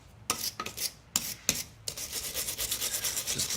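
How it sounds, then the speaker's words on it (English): A wire brush scrubs rust off brake hardware on a 2013 Toyota RAV4 Limited. Several separate scraping strokes give way to continuous, fast rasping, close up and fairly quiet. "getting the rust off with a wire brush"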